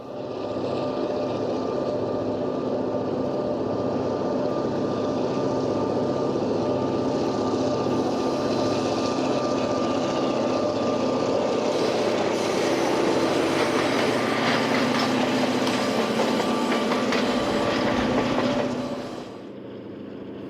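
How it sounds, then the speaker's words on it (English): The second section of passenger train No. 104, the City of Los Angeles, rolls past at Echo, Utah: a loud, steady rumble with rhythmic wheel clatter that swells midway, then cuts off sharply near the end. "The second section of Train 104, the City of Los Angeles, rolls by at Echo"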